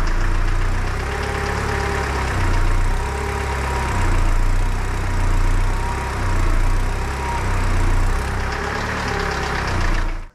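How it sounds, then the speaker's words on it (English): Opel Zafira GSi with a Z20LET engine running steadily under clutch load with the handbrake on, a loud, close, continuous drone with a slight rhythmic pulsing and a faint knock throughout, no voices. "load up the engine, so put the handbrake on and just start to ride the clutch"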